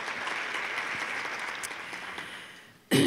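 Steady applause from a crowd at an induction ceremony gradually fades, then a voice begins abruptly at the very end.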